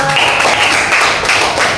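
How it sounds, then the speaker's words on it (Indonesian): Children clapping their hands in a classroom during an Islamic religious education lesson: a short, steady, fairly loud burst close by. "Iya betul, tepuk tangan dong."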